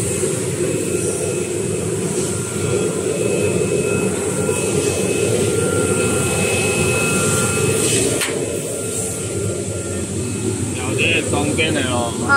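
An automatic four-line facial tissue making machine runs after a jog start, giving a steady, loud mechanical hum and whir that holds evenly throughout, with light rattling near the end.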